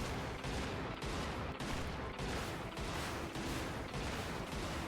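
Heavy main cannon fire in a video game booms again and again in a dense, loud barrage, each blast running into the next with little pause.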